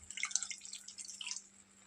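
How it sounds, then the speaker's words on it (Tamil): Tamarind water pours into a pan of prawn curry, a faint, close liquid trickle with light dripping that fades out after about a second and a half. "நம்ம எடுத்து வச்சுருக்க புளி தண்ணியை சேர்த்துக்கலாம்"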